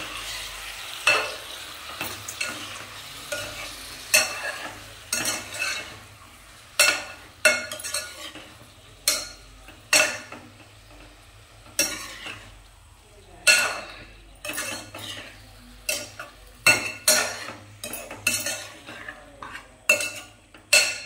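A spatula stirs small pieces of food frying in a pan during a home dinner preparation, with repeated close scraping strokes at an uneven rhythm over a soft sizzle, and no talking.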